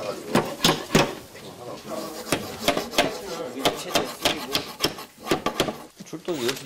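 A creaking bed in a fire station's night-duty room is being repaired, producing repeated wooden knocks, rubs and scraping creaks in an uneven rhythm, close by, with people talking over it.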